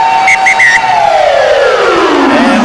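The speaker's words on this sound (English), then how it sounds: "So the siren is there." A long stadium siren sounds to end the first half of a 1997 rugby league tri-series match between Queensland and New Zealand, a loud sustained wail that slowly slides downward in pitch over crowd noise, with brief whistle-like tones at the start.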